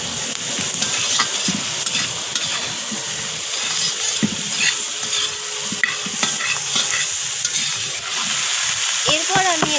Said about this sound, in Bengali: তো সমস্ত কিছু একটু সময় নিয়ে এইভাবে কষিয়ে নিতে হবে।